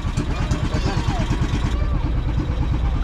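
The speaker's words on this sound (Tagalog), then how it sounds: "Yan na, mandar na ang makina." An engine runs steadily at a low, even idle, its rapid chugging pulses continuing throughout while people talk nearby.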